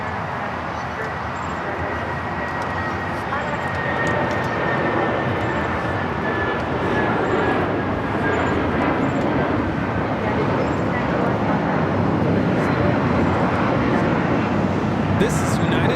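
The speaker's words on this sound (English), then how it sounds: "1591 taking off to Houston Intercontinental on the 757-200" United Airlines Boeing 757-200 jet taking off at Los Angeles LAX, a steady loud broadband engine roar sustained throughout with a rising whine, under faint distant talk.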